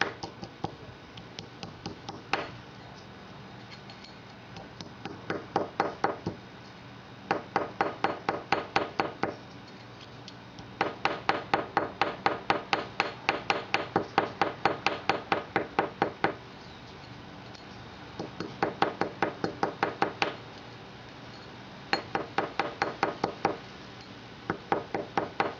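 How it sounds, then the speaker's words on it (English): A hammer lightly pounds a metal arrow broadhead flat, with quick rhythmic bursts of sharp metallic taps repeating in clusters, close up and crisp, with pauses between runs and no talking. "I'm just going to lightly pound these areas with a hammer just to flatten it out."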